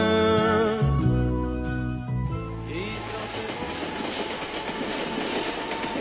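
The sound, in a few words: train passing by allotment gardens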